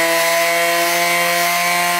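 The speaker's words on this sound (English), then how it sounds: "I want to do the random orbit sander" A random orbit sander fitted with 320 grit paper works across a wooden joint, giving a loud, steady whirring hum with a buzzing tone that holds evenly for two seconds and then cuts off abruptly.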